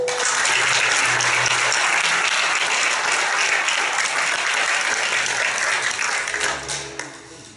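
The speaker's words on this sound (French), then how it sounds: "Applaudissons chaleureusement tous" Loud, dense applause from the audience at a Collège Boréal graduation ceremony on the Hearst campus, rolling steadily for about seven seconds before tapering at the end.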